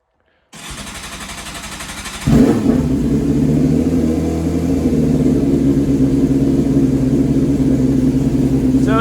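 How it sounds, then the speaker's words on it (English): A Yamaha YZF600R Thundercat motorcycle with fuel injection and a cheap, loud muffler cranks briefly, fires up and settles into a steady, throbbing idle at close range. "So it starts up and idles pretty much like a normal bike."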